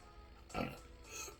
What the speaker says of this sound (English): Excuse me. I had to burp.